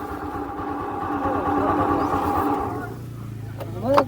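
A motorcycle engine hums at mid pitch as it rides past on a village road at evening near Ganpatipule, its drone rising then fading, with a voice speaking at the end.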